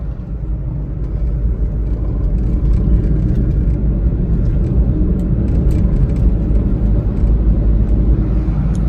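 A Hyundai Santro driving a mountain road toward Leh gives a loud, steady engine rumble and road drone from inside the car, continuous throughout with no talk.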